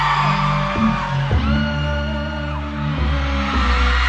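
Loud, continuous crowd noise of fans screaming to welcome a K-pop group at a live performance, high-pitched screams and whoops sustained throughout, thick and dense as if from a large audience.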